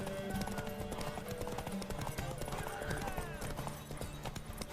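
Rhythmic hoofbeats of a galloping horse in The Witcher 3, mixed with game sounds and a snort or whinny, fairly steady and close.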